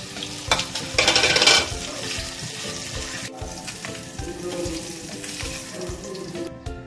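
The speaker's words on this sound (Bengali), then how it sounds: "এখন আমি মাছটা একটু ফ্রাই করে নিচ্ছি।" Rohu fish pieces fry in a little hot oil with a loud, dense sizzle that flares sharply early on, then settles into a steady crackling hiss with occasional stirring clinks.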